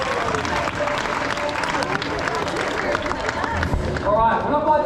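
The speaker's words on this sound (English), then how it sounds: "We'll give him a nice big clap for that one." A crowd at a tiger show at Dream World on the Gold Coast claps loudly and continuously, with a presenter's amplified voice and crowd noise mixed in.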